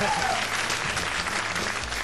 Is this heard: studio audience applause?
yes